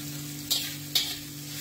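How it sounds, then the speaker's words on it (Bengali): Eggs fry quietly in a pan with a soft, steady sizzle. Two brief scraping stirs stand out near the middle of the clip. "ডিমগুলো ভেজে নিই।"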